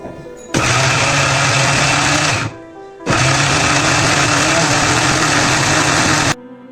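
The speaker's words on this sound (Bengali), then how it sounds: "ব্লেন্ডারে ঢাকনা দিয়ে ব্লেন্ড করে নিলাম" A kitchen blender whirs loud and close on a beetroot drink, running in two long bursts separated by a short pause, then cutting off.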